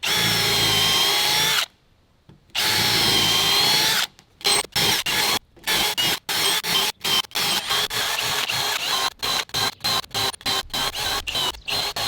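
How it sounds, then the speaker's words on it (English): Power drill boring through framing lumber while building wood roof trusses for a cabin in the woods, loud whining motor bursts with short pauses, then rapid stop-start pulses of the drill running and releasing. "Now that we have it all drilled"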